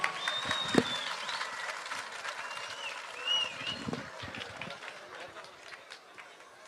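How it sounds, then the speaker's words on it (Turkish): Applause from a crowd at the opening ceremony of the Ferdi Tayfur Museum in Adana, greeting an invited guest; a broad, dense wash of clapping, moderately distant, with scattered voices and outdoor bustle underneath. "Afrikalı Ali'yi alkışlarla davet ediyorum"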